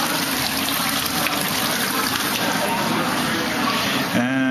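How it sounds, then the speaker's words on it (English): An indoor waterfall in a twelfth-floor building lobby gives a loud, steady, broadband rush of falling water throughout, with a brief tonal sound near the end. "Got the waterfalls here."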